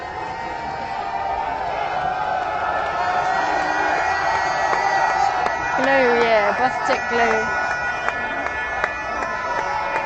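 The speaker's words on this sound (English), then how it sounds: "it's the firemen, we're all cheering the firemen." A roadside crowd waiting in the rain for the Tour de France in Paris cheers and whoops for passing firemen, with rising shouts and scattered calls layered under a nearby voice talking close to the microphone.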